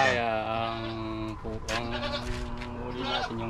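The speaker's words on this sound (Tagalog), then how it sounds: "Marami pa naman ng mga kambing, oh." Goats bleat close by in drawn-out, wavering calls that overlap one another for several seconds.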